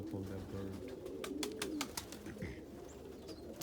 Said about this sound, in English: If you pay attention to this bird, it's a young bird that I raised last year.